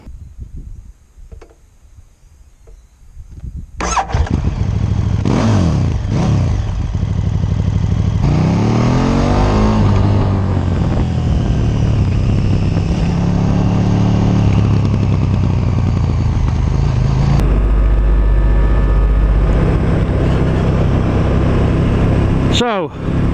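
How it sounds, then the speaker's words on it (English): A KTM SDR motorcycle with reported faults starts up after a few quiet seconds, then its engine runs loud and close, revving and rising in pitch as it pulls away and keeps going, with some clatter. "I'm gonna get on and ride the bike and tell you about this"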